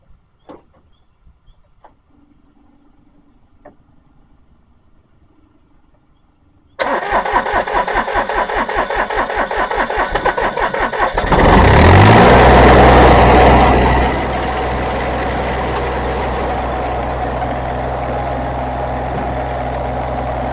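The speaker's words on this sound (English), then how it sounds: "We're gonna stick the key in and crank it up and see what she'll do" Vehicle engine after a fuel line repair cranks with a rapid starter chatter, fires into a loud surge of revs, then settles into a steady close idle, following a quiet stretch of small clicks.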